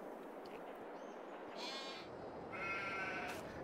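Sheep bleat in the Farming Simulator 22 video game on a flock farm, a few faint calls rising over a constant low ambient background with no one speaking.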